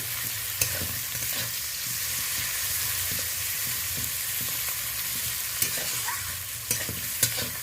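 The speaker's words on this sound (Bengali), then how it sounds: "খুন্তির সাহায্যে ভালো করে আমি নেড়ে চেড়ে পেঁয়াজটা হালকা লাল হওয়া পর্যন্ত নেড়ে নেব ভালো করে" Chopped onion sizzles steadily in hot oil in a pan while a spatula stirs it, with occasional scraping clicks over a constant frying hiss.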